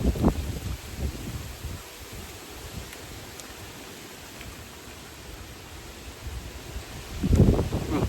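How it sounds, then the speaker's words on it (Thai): Strong wind buffets an outdoor spot where grilled beef is being prepared, a steady broadband roar with heavier gusts at the start and end. "ลมแรงแฮง"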